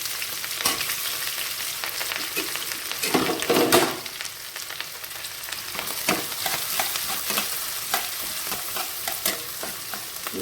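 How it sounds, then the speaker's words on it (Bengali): Chopped onion and garlic fry in a pan for a snake gourd and coconut curry, a steady sizzle broken by sharp scraping stirs and utensil knocks, one louder burst of stirring midway, with no talking. "পেঁয়াজ আর রসুনটা অল্প একটু ফ্রাই করে নিতে হবে।"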